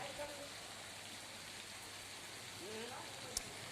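Heavy monsoon rain pours over farm fields in Jamnagar district, Gujarat, a dense, even hiss of falling water that continues without pause, with faint voices audible beneath it.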